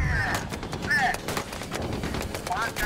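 Tank gun blasts and rapid gunfire crack repeatedly in a Warsaw Pact campaign video game, loud and close, with radio-style chatter and electronic beeps mixed in.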